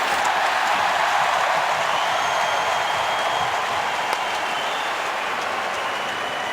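Steady roar of a hockey arena crowd cheering at an NHL game between the New York Rangers and Detroit Red Wings, a dense, continuous wash of noise with no clear breaks.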